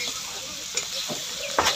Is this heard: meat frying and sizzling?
yes